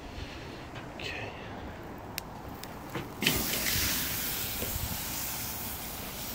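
A T-bone steak hits a charcoal grill with a sudden loud, broad sizzle midway. Quieter hissing and faint talk come before it, and the searing stays steady and close afterward.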